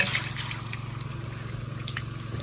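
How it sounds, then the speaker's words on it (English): Ice water poured out of an RTIC one-gallon insulated jug, a steady close splashing stream over a constant low hum, with no talking. "if we go ahead and pour it out here"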